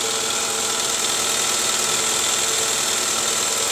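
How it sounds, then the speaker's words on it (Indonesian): A 2005 Toyota Camry with a 2AZ four-cylinder engine idles steadily nearby, a constant even hum and vibration with a faint knocking texture, loud and unbroken with no voices over it. "Nah ini sekarang mesinnya hidup nih, normal."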